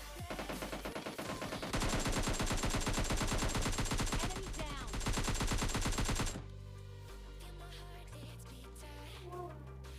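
Dense automatic gunfire in the mobile game PUBG Mobile Lite rattles in rapid, sustained bursts for about six seconds as an enemy is knocked down and finished, then cuts off abruptly, leaving quieter game ambience.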